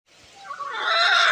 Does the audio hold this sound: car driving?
no